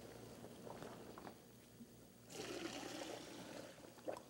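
Cooked beans being drained at a kitchen sink, a faint trickle of water that bursts into a louder, splashing pour partway through and runs on steadily, with no one speaking.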